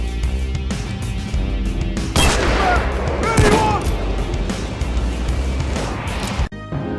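Loud, dense rifle fire from Henry lever-action rifles in the heist game Payday 2, rapid overlapping shots and clanks in a chaotic firefight, with someone speaking over the gunfire.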